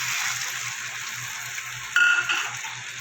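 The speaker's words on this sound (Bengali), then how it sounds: "এবার আমি জল দিয়ে দেবো" Water poured into a pan of simmering potol (pointed gourd) and potato curry, a steady frying hiss that swells suddenly near the end as the water hits and splashes.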